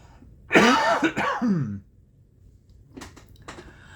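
One harsh cough or throat-clearing bursts out close by, followed by quiet room tone and a few faint soft knocks.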